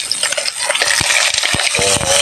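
Chili and ginger sautéing in a pan without coconut milk, a loud close sizzle with scraping and clinking of a spatula stirring against the metal.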